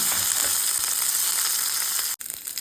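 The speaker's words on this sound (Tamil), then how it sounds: "கட் பண்ண வெங்காயம், 2 வரமிளகாய் போட்டுக்கிடுங்க. 2 கருவேப்பிலை போட்டுக்கிடுங்க. போட்டு நல்லா காய்ச்சிக்கிடுங்க." Onion, red chillies, curry leaves, mustard seeds and urad dal frying in hot oil for a chayote kootu, giving a steady close sizzle with a brief dropout near the end and no talking.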